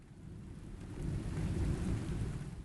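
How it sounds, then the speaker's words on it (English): Rain falls steadily on a treehouse in a storm, with a low thunder rumble swelling and fading beneath it. The sound is soft and distant, with no voices. "the first real storm of it is finally arriving"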